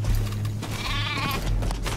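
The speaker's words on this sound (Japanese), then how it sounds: "仲間が羊を追い立ててくれた。" Sheep bleating in the Metal Gear Survive video game, one wavering bleat in the middle over a steady low rumble of game ambience, fairly close and without speech.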